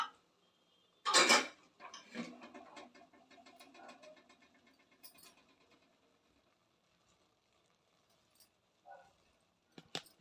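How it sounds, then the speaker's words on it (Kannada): A sharp metallic clank and rattle of a pressure cooker lid being opened, followed by lighter clinks and faint scraping, then quiet. "ಇವಾಗ ಕುಕ್ಕರ್ ಕುಕ್ಕರ್ದು ಮುಚ್ಚಳನ ತೆಗಿತಾ ಇದ್ದೇನೆ"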